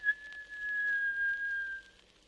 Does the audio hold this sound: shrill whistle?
yes